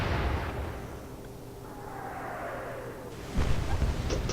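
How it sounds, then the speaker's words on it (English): Naval gunfire booms and a shell explodes on the German cruiser Graf Spee in the Atlantic Fleet video game, with a rumbling blast early, a quieter stretch, then another sharp impact near the end. No voices are heard. "Oh, explosion on the Spee! Something's gone up proper."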